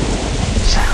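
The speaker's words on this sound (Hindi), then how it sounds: "अब बाहर भी जो है मौसम थोड़ा सा बेईमान हो रहा है, बारिश हो रही बहुत ज़ोर से।" Heavy rain with a thunder rumble in a Squid Game horror video game, a dense, steady roar filling the whole second at close range with no pauses.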